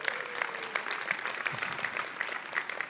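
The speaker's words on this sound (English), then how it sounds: "Let's give them a round of applause" A keynote audience in a large hall applauds its community members: a dense, even patter of clapping that holds steady for a few seconds, with scattered individual claps popping out above the crowd.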